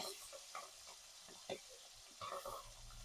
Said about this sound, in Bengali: তেল ছিটছে তো